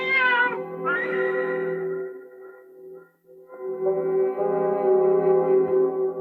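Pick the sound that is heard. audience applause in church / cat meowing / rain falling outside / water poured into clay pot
cat meowing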